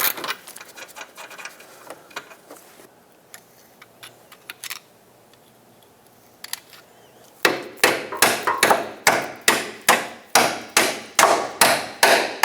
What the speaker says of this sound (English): I'm just going to directly go with an air chisel with a pointy bit